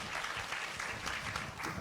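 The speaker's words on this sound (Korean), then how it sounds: "오늘 수고해 주신 패널 세 분에게 여러분 큰 박수 보내주십시오" Audience at a teachers' learning community lesson seminar applauding the three panelists, steady dense clapping from a crowd throughout, fairly faint and distant-sounding in a hall.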